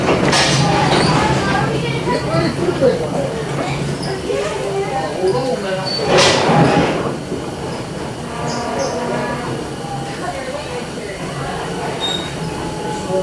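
A heritage excursion train on the Knox & Kane Railroad rolls along the rails with a steady rumble and occasional wheel squeals, heard from aboard the train while people talk nearby.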